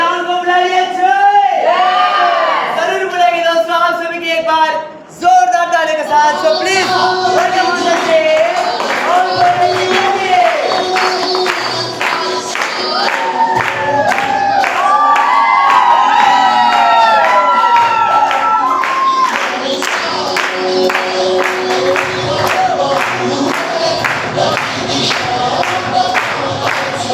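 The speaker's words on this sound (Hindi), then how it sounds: "आप सभी की एक बार जोरदार ताली के साथ।" A large indoor event audience cheers and claps loudly and continuously, with shouts and whoops rising over a dense wall of applause that barely dips before swelling again.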